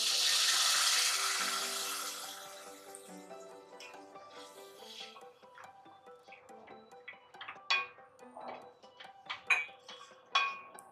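Water poured from a mug into vermicelli roasting in a pan for sheer khurma, a broad gushing splash at the start that fades into scattered sizzling crackles and pops close by.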